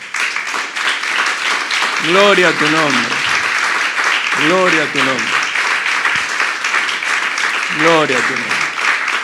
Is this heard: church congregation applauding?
yes